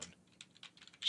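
Soft, sparse keystrokes on a computer keyboard at a dispatcher's desk, a handful of faint, close taps over quiet room tone.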